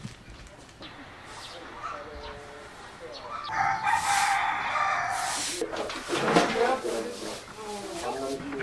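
A rooster crows loudly at an old inn on Iki island, with repeated cock-a-doodle calls and clucking in the middle and later part, alongside some talk.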